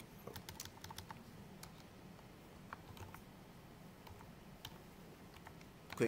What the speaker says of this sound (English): You type quick